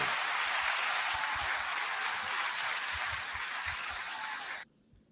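A crowd gives a steady, dense round of applause that holds at an even level, then drops away abruptly near the end.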